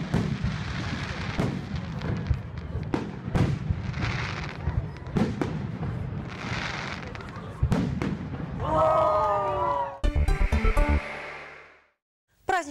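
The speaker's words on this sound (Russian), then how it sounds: "9 мая в Брянске пиротехники выпустили в небо около 1000 залпов" A Victory Day fireworks salute in Bryansk fires about 1000 volleys, with repeated booming thuds and crackling bursts under a voice, followed by a dense crackling flurry.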